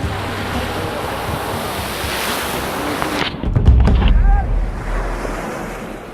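Ocean waves wash against the Somaliland coast in a loud, steady rush of surf, with wind buffeting the microphone and a brief heavier swell midway.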